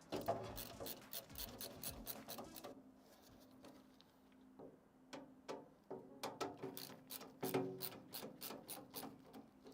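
A screwdriver tightening screws inside a small PC case, faint quick ratcheting clicks in bursts with brief pauses between screws, close but quiet.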